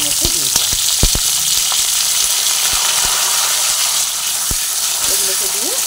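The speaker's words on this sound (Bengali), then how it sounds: "এরপরে আলুগুলোকে তেলের মধ্যে দিয়ে দিলাম।" Potatoes tossed into hot oil with bay leaves in a pan, a loud, continuous sizzle and crackle with scattered stirring clicks throughout.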